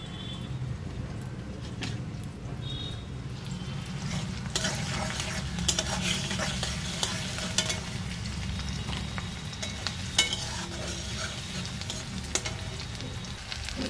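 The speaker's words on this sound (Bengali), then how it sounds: "রসুন আর পেঁয়াজটা তেলের উপরে দেবো" Onion and garlic sizzle in hot oil in a home kitchen, a soft continuous crackle with frequent spatula stirring and light scraping against the pan, steady and moderately quiet with no voices.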